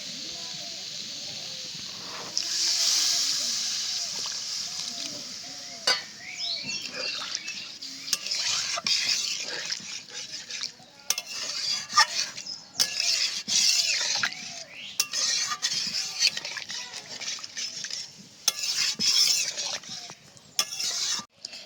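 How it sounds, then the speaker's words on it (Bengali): Watery hissing and steam from simmering masala in a pan as water is poured in and stirred, with scraping, clinking stirring strokes that come and go over a steady background hiss. "এবার দিয়ে দেবো পরিমাণ মতো জল"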